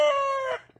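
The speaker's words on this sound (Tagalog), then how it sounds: "ang ingay naman ng manok." Rooster crowing near a plum and peach orchard, a single loud, close, harmonic call holding steady before dropping off sharply, followed by faint soft clucks.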